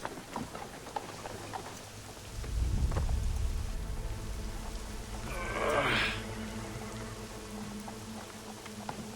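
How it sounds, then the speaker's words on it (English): Steady rainfall in the video game Assassin's Creed III, a constant hiss with a low rumble swelling midway and a brief louder whooshing burst later, no speech. "It's raining, but it's sunny at the same time."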